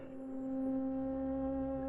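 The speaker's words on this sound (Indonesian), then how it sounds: "Suara klakson terdengar dari belakang tubuhnya" A car horn blares behind a man standing in the middle of a busy road in one steady, sustained blast with no pauses.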